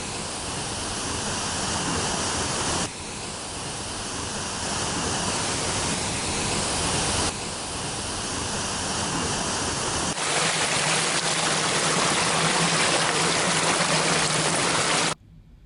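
Steady roaring rush of a waterfall in Cebu, loud and continuous broadband water noise with no voices, shifting slightly in character at a few points as the view changes.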